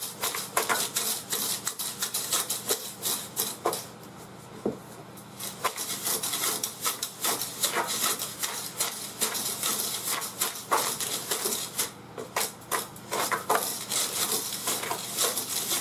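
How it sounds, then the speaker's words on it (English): Painted sand ballast for model railroad track being stirred steadily in a can, a continuous gritty scraping and rubbing rasp with dense rhythmic strokes, close and fairly loud with no talk. "You just consistently stir it."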